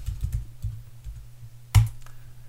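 A password is typed on a computer keyboard: a short burst of quiet, close key taps, a few scattered clicks and one sharper keystroke near the end, with no talking.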